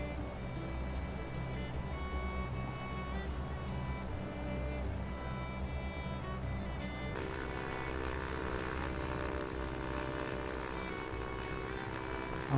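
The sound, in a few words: Cessna aircraft engine in flight simulator video game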